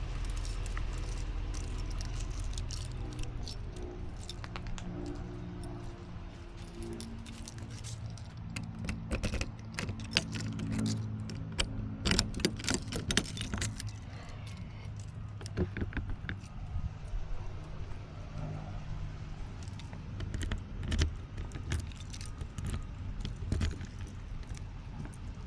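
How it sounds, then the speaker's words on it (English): Keys jangle and clink repeatedly in bursts while the doors of an RV are being locked, close up and fairly loud, with rustling and handling noises in between and no speech. "You can go lock all the doors."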